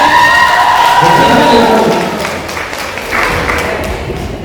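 Steady, dense applause fills a hall at a faculty awards closing ceremony. The crowd claps loudly and keeps going, with a faint voice over it at the start.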